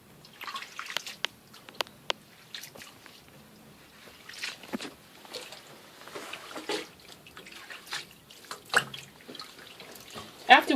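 Water rinsing apple cider vinegar out of dreadlocks over a sink, with scattered soft splashes and drips, faint and intermittent, and with a few quiet voices in the background.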